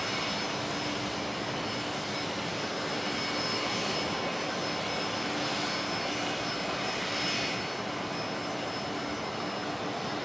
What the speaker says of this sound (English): we're going to get Velocity 341 in first on short final. The 737-800 coming in from Melbourne.